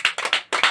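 A group claps out the rhythmic P2K2 chant in quick, crisp bursts, close and loud, with a short gap before the final pair of claps.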